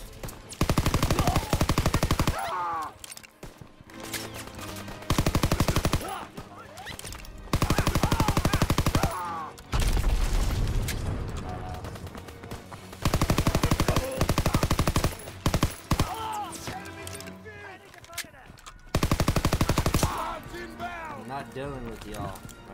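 Machine gun fire in a D-Day battle video game, loud bursts of rapid automatic shots repeating every few seconds, with shouting players talking in between.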